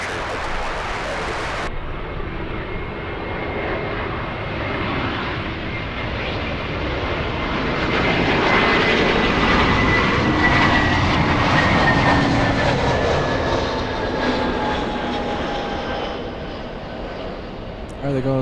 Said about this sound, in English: There goes Philippine Airlines.